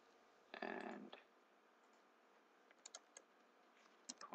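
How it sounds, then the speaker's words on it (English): Numbers being typed on a computer keyboard while working in FlowStone SynthMaker, with a short burst of clicks followed by a few scattered, faint keystrokes over a quiet background. "We change the color just by typing the numbers."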